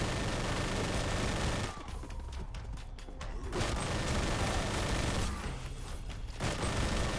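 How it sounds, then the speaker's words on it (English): Minigun in R.I.P.D. The Game firing in sustained loud bursts, with two brief pauses between long stretches of dense rapid fire. "the minigun is really the only thing that sounds like it has a bit of a kick to it"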